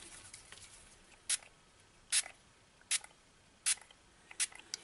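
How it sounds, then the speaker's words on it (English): Spray bottle misting water onto a stamped paper card, five short, crisp sprays spaced at roughly even intervals, close and fairly quiet against a faint background hiss. "the next step is to spray your card with water"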